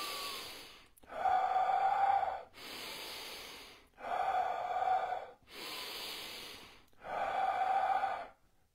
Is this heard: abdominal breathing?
yes